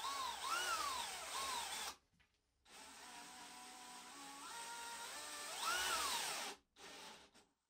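A DeWalt DCD999 cordless hammer drill drives a 10 x 400 mm screw in loud, close whining bursts with rising and falling motor pitch, broken by two short pauses.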